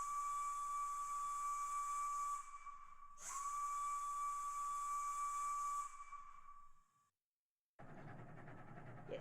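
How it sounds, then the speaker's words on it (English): A steady, shrill model steam locomotive whistle blows for several seconds, pauses briefly, sounds again, then cuts off into hissing steam. "Here's a whistle."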